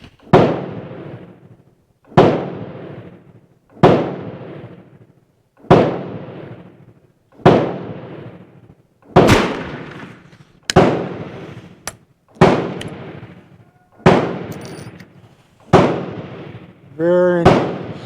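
A Werndl 1867/77 rifle firing outdoors, about eleven sharp, loud reports spaced roughly one to two seconds apart, each with a trailing echo.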